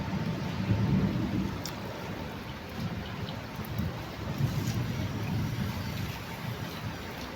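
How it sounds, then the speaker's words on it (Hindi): Steady rain falls outdoors, a dense, even hiss of drops that holds at an unbroken level from start to finish. "देख सकते हो बारिश पड़ रही है।"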